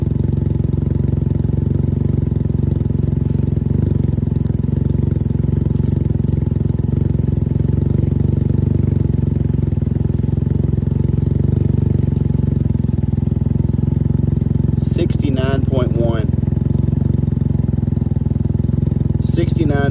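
A Can-Am Ryker with an RLS Carbon Series exhaust, all baffles installed, runs in a steady loud idle throughout, its low engine drone constant and close, with brief voices near the end.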